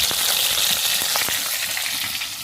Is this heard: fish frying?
yes